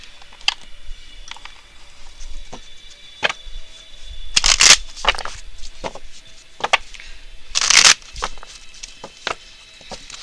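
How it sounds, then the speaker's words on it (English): Tarot cards are shuffled and laid down on a table, with scattered soft taps and slaps and two louder riffling bursts, close and fairly quiet, with no talking. "So let me lay some cards down."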